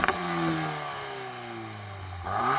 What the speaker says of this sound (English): I'm going to start off by revving up this Golf R.